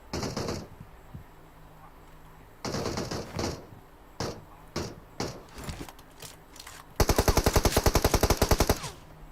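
Gunfire in the mobile battle-royale game PUBG Mobile: scattered single shots and short bursts, then a long rapid automatic burst near the end, loud and close with almost no voice over it.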